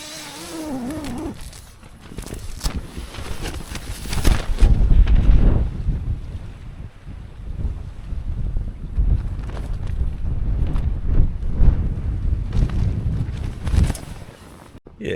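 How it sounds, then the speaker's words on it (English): Gusty wind buffets a tent at a campsite, rising and falling in loud low rumbling bursts with rustling flaps in between. "Seems a bit windy."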